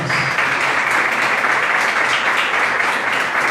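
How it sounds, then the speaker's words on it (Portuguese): Audience at a Catholic church conference clapping steadily to welcome a priest, a dense, uniform round of applause lasting the whole stretch. "Vamos acolher um salve de palmas."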